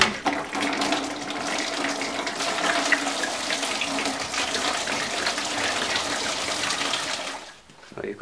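Coolant drains from a Ford Transit radiator during a cooling system flush, a steady close splashing gush of liquid running continuously for several seconds before cutting off near the end.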